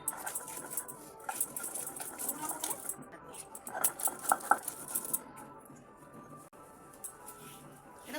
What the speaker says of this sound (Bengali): এবার কাঁচা লঙ্কাটা বাটবো, একটু ঝাল ঝাল খাবো, সেই জন্য একটু বেশি করে কাঁচা লঙ্কা দিচ্ছি।